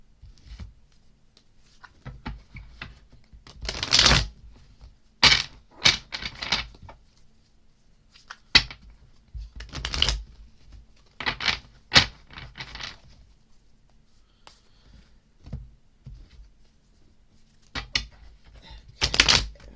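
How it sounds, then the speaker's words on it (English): Oracle cards being shuffled in quick bursts of papery riffling and soft taps, clustered in several short runs with quiet pauses between them, close and fairly crisp. "Real quick shuffle here."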